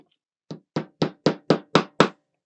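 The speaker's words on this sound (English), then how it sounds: "I'll use my little hammer here to bang this" A small hammer taps a part of a Lancaster Bomber B.III model's undercarriage into place, striking six sharp, evenly spaced blows close up with nothing else heard.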